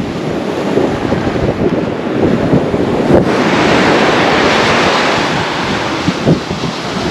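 On a black sand beach in Indonesia's Tangkoko National Park, ocean waves break and rush loudly close at hand in a continuous roar, with heavy wind buffeting the microphone throughout.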